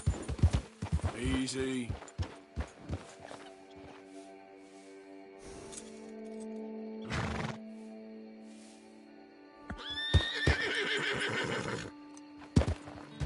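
A horse in the Western video game Red Dead Redemption 2 neighs and whinnies loudly several times, with clip-clop hooves and snorts between, while someone talks over it, urging the horse on.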